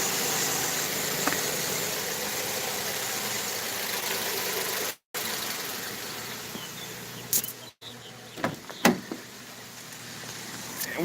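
A car engine idles steadily with a low hum and faint buzzing vibration, interrupted by a couple of brief dropouts and small clunks.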